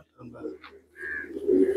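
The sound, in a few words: pigeons cooing in a racing pigeon loft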